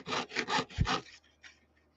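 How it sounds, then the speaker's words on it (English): A hand saw cuts through thin copper sheet in quick rhythmic rasping strokes, close and fairly quiet, with about four strokes and then softer scraping as it tails off. "I am just going up and down with my saw. I'm turning the metal."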